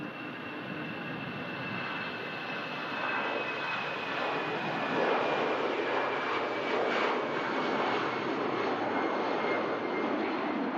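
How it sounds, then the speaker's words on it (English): A Finnair Airbus A319 jet rolls for takeoff on runway 05 at Manchester Airport, a loud, steady broadband engine roar that swells slightly midway and holds for the whole stretch with no talking. "Finnair on the roll, A319 heading out to Helsinki."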